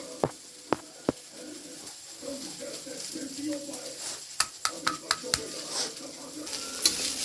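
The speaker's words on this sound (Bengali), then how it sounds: "পেঁয়াজটা ভাজা হয়ে গেছে, এখন নামিয়ে ফেলবো" Onions sizzle in hot oil with a steady crackle, punctuated by sharp clinks of a utensil against the pan.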